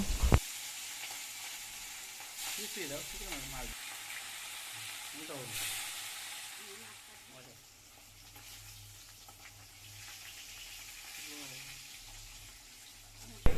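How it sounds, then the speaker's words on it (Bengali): Fish fries in oil with a broad, steady sizzle that swells and fades, with intermittent voices talking over it. "ওই তেলের মধ্যে এখন আমি মাছগুলো ভেজে নেব"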